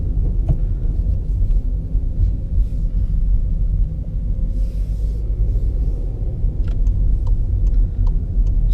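The 1.2 litre, 90 horsepower engine of a 2017 VW Polo Mk5 hums as a steady, loud low rumble from inside the car, heard alone with faint ticks.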